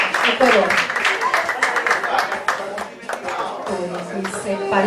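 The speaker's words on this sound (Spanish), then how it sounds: "Ein großer Applaus dann" Audience clapping and applause at a charity lunch after two children perform a dance, a dense, continuous patter of many hands filling the space, with voices mixed in throughout.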